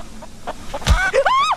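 A chicken in a video game gives a few soft clucks, then a sudden thump followed by quick rising squawks, close and loud, with no talking.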